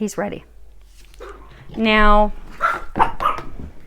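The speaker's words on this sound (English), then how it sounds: "So apologies for the mouthy dog." A dog barks close by in a home, a short run of sharp, loud barks and yips mixed in with someone talking.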